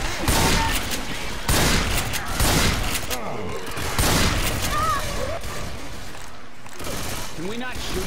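Rapid bursts of video game gunfire and booming shots come in repeated volleys across a chaotic firefight, loud and close, with players shouting over the shooting.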